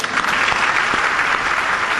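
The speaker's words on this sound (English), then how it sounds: "Please, no applause." Applause from the audience at a funeral service at Churchill Downs in Kentucky, a steady, dense wash of clapping that carries evenly through the clip with no voices over it.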